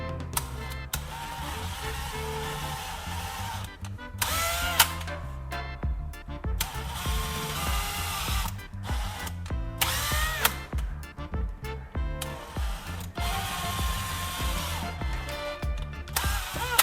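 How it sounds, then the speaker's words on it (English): A power drill boring a series of holes at marked points in a wooden board, its motor repeatedly spinning up and cutting in steady bursts with short pauses between holes, loud and close throughout. "Once marked, I'll drill holes at each point."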